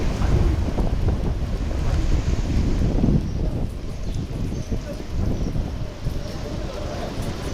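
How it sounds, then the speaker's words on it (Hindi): Strong winds and heavy surf batter the Bay of Bengal coast at Digha during Cyclone Yaas, with rain falling; loud gusts buffet the microphone over a continuous roar of crashing waves. "तेज़ हवाओं के साथ बारिश हो रही है, समंदर में तेज़ लहरें उठ रही हैं।"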